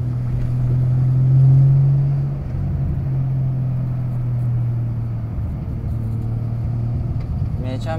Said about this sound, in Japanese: めちゃめちゃ車多いし